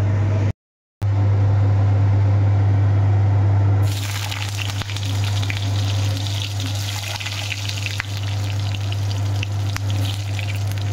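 Panch phoron spices sizzle in hot oil in a home kitchen, a steady loud frying hiss that swells after a few seconds, with a constant low hum underneath and no talk.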